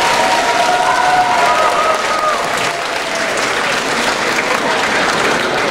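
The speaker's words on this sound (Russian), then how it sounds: "Аплодисменты!" Applause from a convention concert audience after a performance at Epic Con Russia, dense loud clapping with a few cheers, sustained then easing slightly, with a faint voice briefly audible early on.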